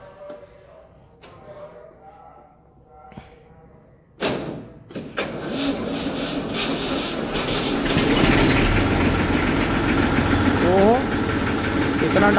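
An antique tractor engine, with a suspected plunger fault, cranks and catches after a few seconds of quiet talk, then runs roughly with uneven knocking that grows louder and steadier toward the end.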